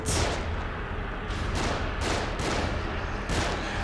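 Allied characters fire on enemies in The Evil Within: a steady run of loud, close gunshots and booming reports, roughly five or six distinct blasts over a rumbling background, with no talking.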